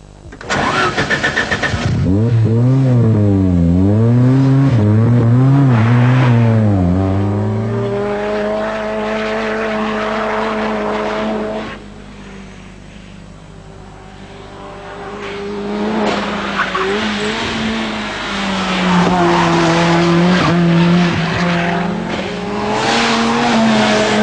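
A Ford Sierra RS500 Cosworth Group A race car fires up and revs hard. Its engine note rises and falls through rapid gear changes as it pulls away, with a brief tire squeal, loud and close, and no talking.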